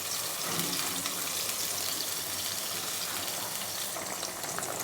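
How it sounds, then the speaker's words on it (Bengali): Raw banana koftas drop into boiling curry gravy, which bubbles and sizzles in a steady, dense hiss that holds at an even loudness throughout, with no voices. "ঝোলটা ফুটে গেছে এবার কোপ্তাগুলো দিয়ে দিচ্ছি"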